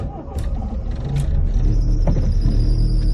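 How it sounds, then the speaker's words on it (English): A Toyota EP82 Starlet GT Turbo engine starts up and settles into a steady, loud idle close by, with a faint high belt squeal whining over the rumble. "And we get a little bit of belt squeal."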